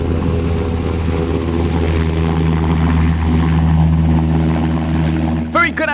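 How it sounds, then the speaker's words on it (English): Helicopter engines at an air show drone loudly and steadily with a rotor throb, a continuous close roar, and a voice briefly cuts in at the end. "He loves his helicopters. And we've got plenty of those this afternoon."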